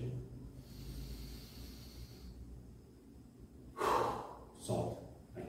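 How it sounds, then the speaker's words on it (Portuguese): Two sharp inhalations and releases of breath during a guided breathing exercise, the first around the middle and a shorter one near the end, close and fairly loud over a quiet background hum. "Aqui você já começa a equilibrar a sua respiração."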